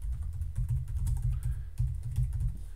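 Rapid computer keyboard typing, close and fairly loud, with a quick run of key presses in an uneven rhythm and a brief pause near the middle.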